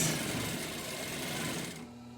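A sewing machine stitching a face mask closed, a close steady whirring buzz of rapid needle strokes that runs continuously, then slows and drops off just before the end.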